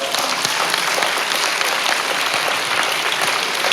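Sustained audience applause during a Portuguese political discussion, a dense, steady wash of many hands clapping at even loudness throughout, with no voices standing out.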